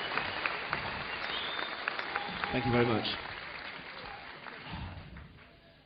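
Audience applause at a live rock concert, greeting the bass guitarist: a steady wash of clapping and crowd noise that swells near the middle and fades toward the end, with someone speaking over it.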